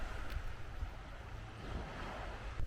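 Sea waves wash steadily along the Naoshima shore on the Seto Inland Sea, a soft, continuous broadband rush with a little wind over the microphone and no voices.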